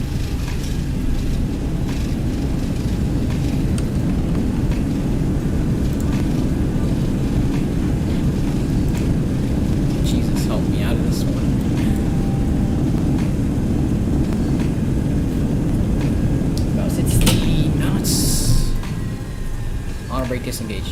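In the X-Plane 11 flight simulator, a Boeing 727's thrust reversers roar after landing at Denver, a broad, steady low rumble of engine noise lasting throughout, with faint clicks and brief cockpit sounds near the end.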